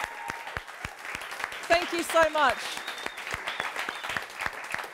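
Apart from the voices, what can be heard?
audience applause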